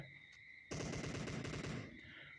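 A rapid burst of automatic gunfire from a shooting video game, a dense rattling volley lasting over a second that cuts in sharply and then trails off against a faint background tone.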